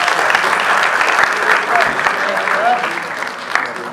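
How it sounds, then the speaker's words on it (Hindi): Audience applause fills the hall at an award ceremony for the best Punjabi books, steady dense clapping for about four seconds with a faint murmur underneath. "तालियां।"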